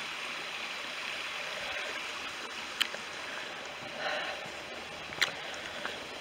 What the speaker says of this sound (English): Can you hear the stream, everyone? The babbling brook?